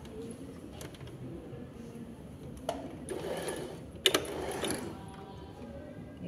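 A sewing machine stitches down the middle between folded fabric layers while making a placket, giving a quiet, steady mechanical whir with a few sharper clicks and no talking.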